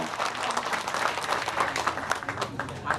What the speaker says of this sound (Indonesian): Tepuk tangan untuk Ega dan calon suaminya.